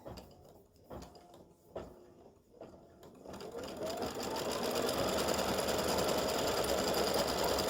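An embroidery sewing machine stitching out a freestanding lace St. Patrick's Day horseshoe design, starting with a few separate mechanical clunks, then settling into a fast, steady, continuous whir of stitching, close and moderately loud.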